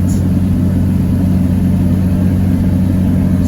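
A Microcar Lyra microcar drones at a steady, loud engine pitch from inside the cabin as it holds near its top speed, with a constant vibrating hum and no talk.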